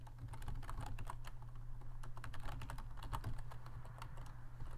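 Computer keyboard typing, a steady run of quick irregular keystrokes over a constant low electrical hum, close and moderately quiet, with no voices.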